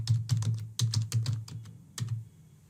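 Keys on a computer keyboard tapped while entering a password for a new Shopify customer account: a close, crisp run of about a dozen clicks in short clusters, with no voice.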